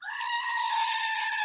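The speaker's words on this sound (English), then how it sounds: "My screaming goat." A screaming goat toy lets out one long, loud, unbroken bleat that sounds like a shriek. It fills the whole moment with no pause and nothing else can be heard.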